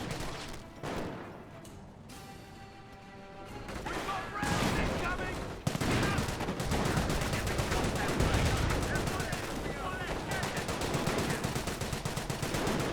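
Rapid gunfire from a Greyhound armored car in the Company of Heroes game, sustained bursts of machine-gun-like fire that build into a dense, continuous battle din with shots rattling steadily throughout.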